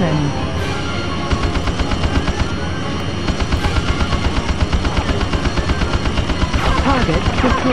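Rapid bursts of Harrier jet cannon fire in the video game Eagle One: Harrier Attack rattle in quick, even rhythm, loud and close, with rumbling explosions and engine noise around them.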